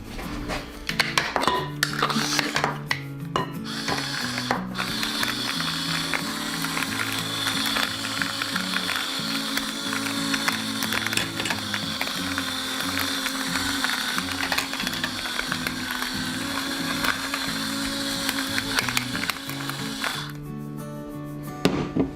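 A hand pepper mill grinding pepper into an imitation crab meat and shrimp salad, a steady, close, continuous ratcheting crunch that runs for about twenty seconds with no talking.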